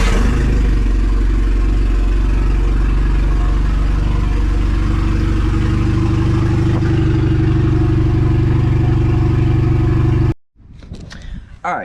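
A Nissan 240SX S13 coupe idles loudly and steadily as it is moved out of a garage. The low engine rumble cuts off near the end, followed by brief clatter.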